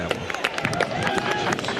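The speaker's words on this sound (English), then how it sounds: "And an applause" A stadium crowd at an Arkansas Razorbacks college football game applauds after a touchdown, a dense patter of distant clapping and cheering running beneath a commentator's voice.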